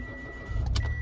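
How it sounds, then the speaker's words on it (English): The small engine of a 2020 Mitsubishi Mirage Limited cranks and catches in a brief burst, rising into a light, buzzy idle. "Those little engines always sound like, it sound like something made by Lego"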